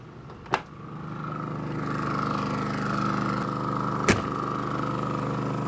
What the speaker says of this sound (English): And I do hear the generator, it really ramped up.